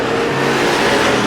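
Race cars battling side by side on a dirt oval track during a Halloween Howler feature, a loud engine roar sweeping past at close range without pause.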